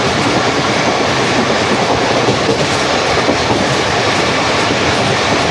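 A Rehman Baba Express passenger train passes close by in Karachi, running several hours late, with a steady, loud, continuous rumble of wagons and rhythmic clickety-clack of wheels over rail joints throughout.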